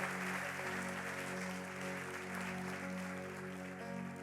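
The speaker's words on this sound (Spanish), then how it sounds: "Denle un fuerte aplauso a Dios." Church congregation applauds during a Sunday sermon, faint and distant clapping under a sustained organ or keyboard tone.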